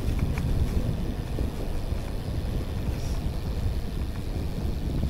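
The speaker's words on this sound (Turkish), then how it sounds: "Ne güzel esiyor ya öyle." Steady low wind rumble buffets the microphone outdoors on a village road in Lampang, Thailand, a continuous broadband roar that never lets up across the whole stretch with no talking.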